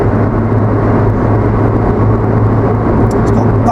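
Steady, loud road and engine drone from a Toyota Yaris T Sport with a 1.5 engine cruising on a motorway, a continuous low hum and tyre roar with no breaks.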